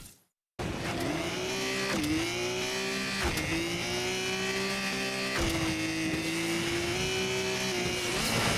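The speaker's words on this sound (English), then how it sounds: "Listen to that engine." A race car engine in the mobile racing game Asphalt 9 drones at a steady high pitch, with brief dips at gear shifts and rising revs, loud and continuous with no talking.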